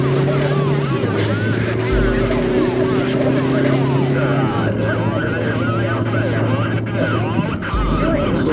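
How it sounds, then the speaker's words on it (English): Car driving along a street in downtown Chandler heard from inside a moving vehicle, with a steady engine drone, gear shifts in pitch and talk over the road noise. "This car's pretty quick."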